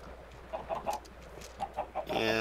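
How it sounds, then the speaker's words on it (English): Several chickens cluck in short bursts around a farm in a Minecraft-style game, soft and close, ending in a denser burst of game sound. "I have a whole bunch of chickens down there."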